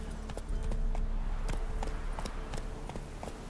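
Ridden horse galloping in a video game, a steady run of hoof clip-clops with a rumbling undertone, close and continuous for a few seconds.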